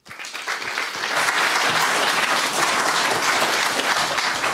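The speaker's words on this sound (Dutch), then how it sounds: "Een warm applaus voor Joep Leersen" Warm audience applause at a literature presentation in Amsterdam builds quickly from a few claps into dense, sustained clapping that stays loud and even throughout.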